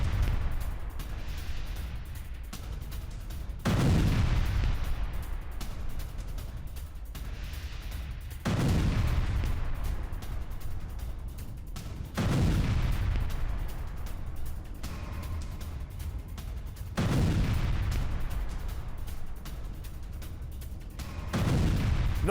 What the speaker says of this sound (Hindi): हिजबुल्लाह ने दागे 20 से ज्यादा रॉकेट।